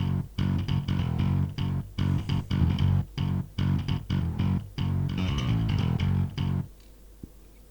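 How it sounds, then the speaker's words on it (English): Mono electronic bass line with punchy, rhythmically gated notes repeating in a steady groove, full and close, before dropping out to near silence at the end, with no voices. "It's just a bass line."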